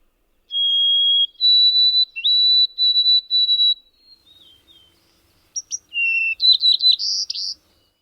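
A large sparrow sings clear, plaintive whistled notes, held and slightly sliding, followed by a brief pause and a quicker trilled phrase, alone in quiet surroundings.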